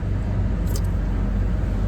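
Low, steady road rumble and engine drone from inside a moving car, continuous and fairly loud, with no talking.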